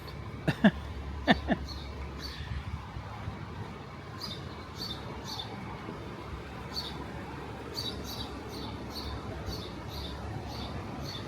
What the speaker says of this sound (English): Sounds like the birds love the scaffolding.